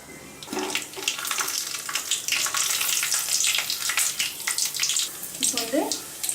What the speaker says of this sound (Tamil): எண்ணெய் லைட்டாக சூடானதும் இதில் இந்த கருவடகத்தை போட்டுக்கலாம்.